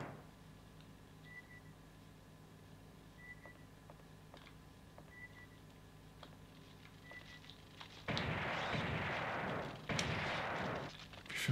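Gunfire from the 1996 PS1 game Alien Trilogy erupts in two loud, sustained bursts after a stretch of quiet beeping and faint ambient hum.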